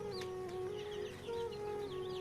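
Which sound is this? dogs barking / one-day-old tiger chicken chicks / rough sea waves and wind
one-day-old tiger chicken chicks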